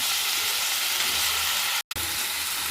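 Washed gourd cooks in a hot pan with fenugreek, giving a loud, continuous hiss of frying close by, with one brief gap partway through; no voices.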